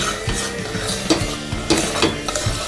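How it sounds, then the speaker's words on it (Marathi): A spoon stirs carrot and beetroot halwa in a pan after ghee goes in, with repeated scraping strokes against the metal and a light sizzle underneath. "आनी तूप घालून तरी हलवून"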